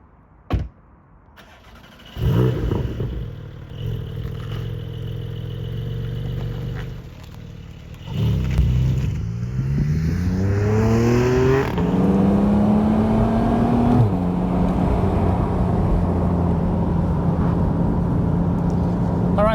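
Porsche 718 Spyder on the road, its engine starting up then droning and rising in pitch as it accelerates through the gears, loud and continuous inside the cabin.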